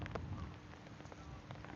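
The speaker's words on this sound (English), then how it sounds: "started to rain on us ever so slightly" Light rain falling in the National Botanic Gardens in Dublin, a soft, steady patter of scattered drops on the ground and leaves outdoors, faint and continuous with no voices.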